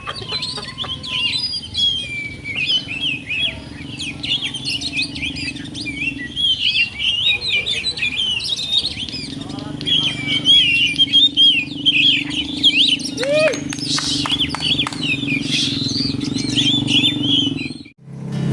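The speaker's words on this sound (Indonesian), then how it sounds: "itu tadi beberapa cuplikan video seekor kacer yang emang dalam kondisi dominan birahinya" An oriental magpie-robin in breeding condition chirps in rapid, varied bursts of song, loud and close, with occasional flapping and a low steady hum underneath.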